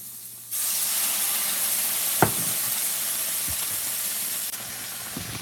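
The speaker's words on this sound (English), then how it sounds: "So when you put that in there, it will deglaze the pan. You'll hear it probably." Dry sherry hits a hot pan to deglaze it, bursting into a loud, steady sizzle and hiss of steam that holds throughout, with a few small clinks.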